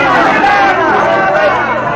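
A crowd mingles in a courtyard after a performance, heard as a steady, close hubbub of overlapping chatter and murmuring voices throughout a radio drama scene.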